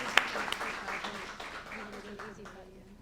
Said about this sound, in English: Now you may clap.